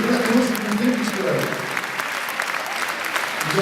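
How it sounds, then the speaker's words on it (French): Audience at a New Year's civic ceremony applauding, a loud, dense, steady clapping from a crowd that runs the whole time and eases off slightly toward the end. "Merci encore de l'applaudir."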